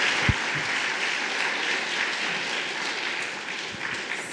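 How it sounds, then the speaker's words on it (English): An audience at a legal tech event applauds a speaker, a continuous, moderately loud patter of many hands with a couple of low thumps near the start and end. "let's give a round of applause for Dr."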